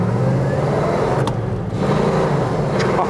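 A 1971 Pontiac GTO 455 H.O. accelerating on the road, its engine a loud, steady, close roar with a brief dip partway through and no voices over it.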